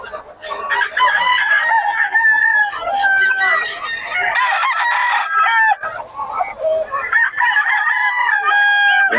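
Gamecocks crow loudly and close by, one long strained call after another with clucking in between, at a roadside fighting-cock sale in Bocaue, with no gaps of quiet.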